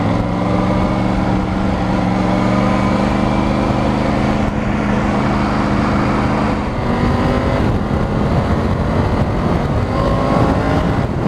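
Triumph Tiger 900 Rally Pro motorcycle engine pulling hard under heavy throttle, a loud, continuous close-up roar with rising harmonics and wind rush that shifts gear partway through.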